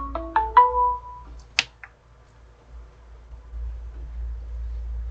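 A mobile phone ringtone plays a short rising sequence of a few bright electronic notes, followed by a sharp click and then quiet room hum.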